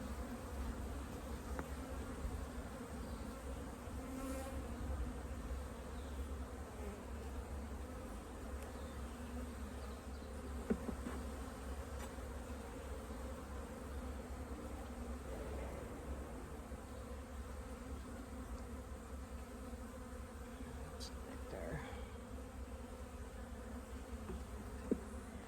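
Honeybees buzz steadily around an open hive during an inspection, a dense, continuous low hum that stays close and even throughout, with occasional faint knocks from frames being handled.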